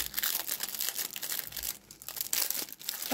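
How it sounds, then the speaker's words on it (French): Paper peels and crinkles off a diamond painting canvas, a close, steady rustling and crackling for a few seconds with no voices. "je suis en train d'enlever le papier."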